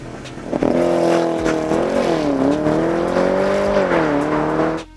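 A Porsche Panamera Turbo S E-Hybrid makes a launch-control start: a loud engine note holds and shifts in pitch as it accelerates hard, then cuts off abruptly at the end.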